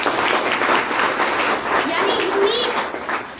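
An audience claps together at a business seminar, a dense patter of applause with voices calling out over it.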